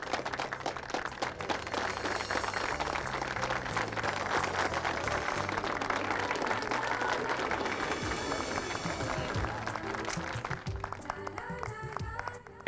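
Party guests applauding in a dramatized celebration scene, sustained dense clapping with background music underneath, steady and loud throughout.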